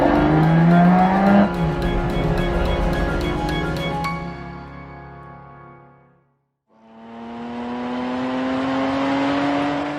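A Lamborghini Miura SV driven hard at high speed, its engine roaring loudly and rising in pitch through the gears, then fading away to near silence before a second loud pass climbs back up in pitch.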